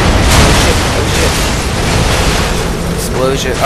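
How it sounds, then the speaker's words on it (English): Explosion in the video game inFamous: a loud, sustained rumbling roar of debris and blast noise, with someone talking over it. "Explosion."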